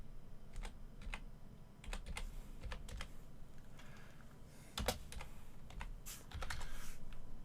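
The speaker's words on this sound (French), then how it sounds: "On va tout simplement taper comme ça." Computer keyboard typing while searching for a PS3 game: bursts of quick, crisp keystrokes in uneven clusters with short pauses, close and fairly quiet.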